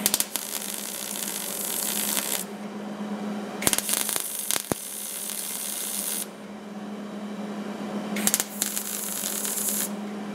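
MIG welding on a car floor panel, laid down in short back-and-forth passes: bursts of crackling, hissing spray over a steady electrical hum, each lasting a few seconds with brief gaps between, close and fairly loud.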